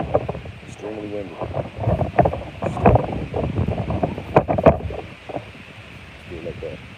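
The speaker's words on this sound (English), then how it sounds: "It's a little windy today, man. Extremely windy." Strong wind buffets the microphone outdoors in gusty, rumbling bursts, with someone talking over it throughout.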